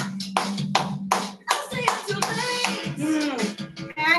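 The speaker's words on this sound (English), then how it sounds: "Clap your hands." Children clap along in a dance class during the last song of the day, about eight even claps at a steady beat over loud pop music, with an adult voice calling out moves.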